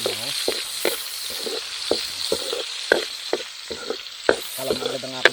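Onions fry in a pan with a close, steady sizzle, broken by regular scraping knocks of stirring.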